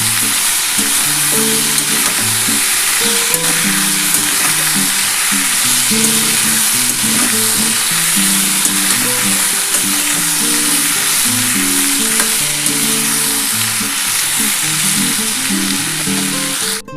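Loud, continuous sizzling of potatoes frying in hot oil, steady and unbroken throughout with no one talking.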